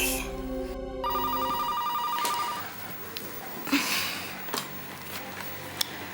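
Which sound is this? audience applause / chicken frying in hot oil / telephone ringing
telephone ringing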